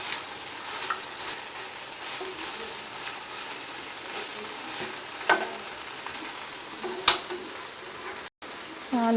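Vegetable biryani mixture frying in a pan, a steady soft sizzle with occasional sharp clinks and scrapes of stirring against the pan.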